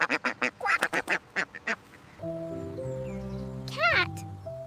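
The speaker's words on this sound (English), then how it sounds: "Duck. This is a duck." A duck gives a rapid series of short, close quacks, then falls silent as soft tonal music with a brief rising chirp takes over.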